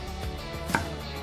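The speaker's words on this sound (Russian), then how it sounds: "Сначала разрезаем пополам, а потом поперек на большие кубики." A knife chopping a carrot into large cubes on a cutting board: a single crisp, close chop in a quiet kitchen.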